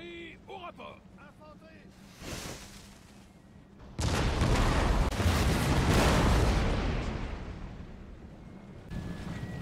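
Heavy booming artillery fire from a grand battery in the Napoleon: Total War battle for Vienna in 1805, with a single loud blast followed by a long rolling roar, then another burst near the end.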